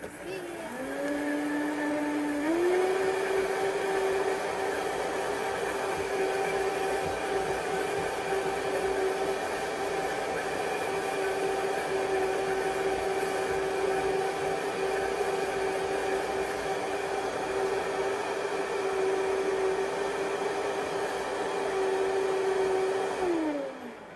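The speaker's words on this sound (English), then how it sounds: "So we turn on our Vitamix, and we're going to increase the speed." A Vitamix blender whirs loudly and steadily, its motor pitch climbing in a smooth rise over the first few seconds as the speed is increased, then holding a high continuous whine for about twenty seconds before winding down.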